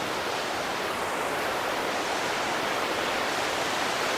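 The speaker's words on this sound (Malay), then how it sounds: "Hari ni air agak laju." Fast-flowing river water rushes past a campsite at Sahom Valley in Kampar, Perak, a steady, dense wash of noise with no breaks.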